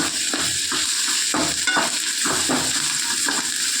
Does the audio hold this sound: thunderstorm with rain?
no